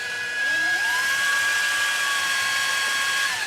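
A dull drill bit turns steadily, giving a continuous high whine with a bright sustained tone. It ramps up briefly at the start, then holds nearly constant and close for the rest of the stretch, with no voices.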